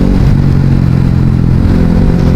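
KTM RC 390 motorcycle ridden while shifting up a gear, a loud, close engine drone with steady rumble and slight clatter, no break in the sound.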